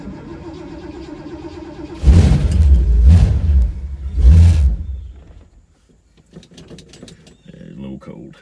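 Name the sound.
Ford Torino car engine starting up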